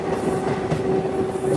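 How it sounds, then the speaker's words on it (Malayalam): A Nepal Railways diesel DEMU train arrives with a steady, loud rumble and rolling rattle, heard close throughout the short stretch. "അങ്ങനെ ട്രെയിൻ ഇതാ കടന്നുവരികയാണ്."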